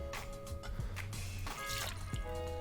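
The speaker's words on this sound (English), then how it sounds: "I'm going to start by measuring out my bourbon whiskey" Bourbon whiskey measured out and poured into a jigger or glass, a brief liquid trickle with small drips and clinks over a steady low background hum, fairly close.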